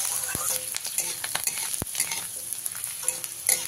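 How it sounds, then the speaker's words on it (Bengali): Garlic cloves frying in hot oil, a continuous sizzle with scraping stirs and a couple of sharp clicks from a spatula against the pan. "দিয়ে খুব ভালো করে ভেজে নিতে হবে।"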